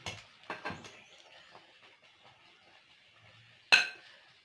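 Cutlery clinks against dishes while white beans and yam are served restaurant style: a few light taps early on, then a sharper single clink near the end, quiet and close.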